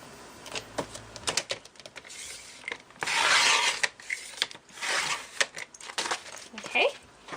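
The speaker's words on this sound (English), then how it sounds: "So I'm just going to put those in my paper cutter and cut them both down." A paper cutter trims sheets of paper for a craft project, making a series of close, dry rasping slices with short clicks between strokes and one longer, louder cut near the middle.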